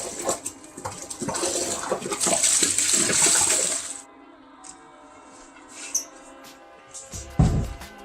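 Water gushing from a tap into a sink being filled with sanitizer for homebrewing cider, a loud rushing stream for about four seconds, then quieter drips, clinks and handling noises.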